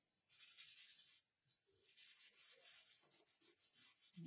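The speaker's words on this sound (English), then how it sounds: "Make sure you rub it in good." Wax being rubbed by hand into freshly sanded wood, a steady scratchy rubbing in repeated strokes, fairly close and quiet, with a brief pause partway through.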